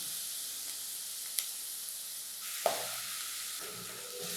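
A ground spice paste for urundai kuzhambu sizzles in a pan with a quiet, steady frying hiss, broken by a couple of brief clicks and stirring scrapes.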